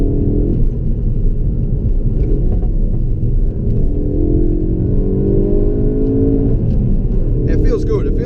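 A 2017 Ford Focus RS pulls under full throttle through hairpin corners, a deep continuous engine rumble with rising tone heard from inside the car, steady and loud throughout.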